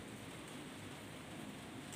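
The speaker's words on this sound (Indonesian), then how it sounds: "ini cuaca di luar sedang hujan" Rain falls steadily outdoors, a continuous even hiss of drops with no breaks and no voices.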